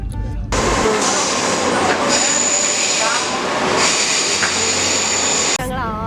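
Train rolling toward Bath on a trip from London, a steady close rumble of the carriage with brief wheel squeals, running continuously after a short start.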